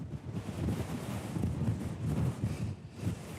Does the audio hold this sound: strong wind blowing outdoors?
yes